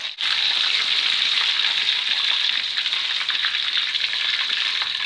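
Lumpia wrappers wrapped around caramel banana fry in hot oil, a dense continuous sizzle and crackle close up, steady and fairly loud with no pauses.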